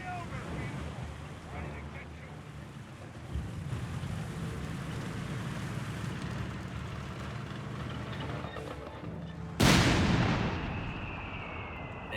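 Flak 30 anti-tank half-track bombardment in Company of Heroes 3, a low rumbling battlefield bed with one sharp, loud blast near the end that decays slowly.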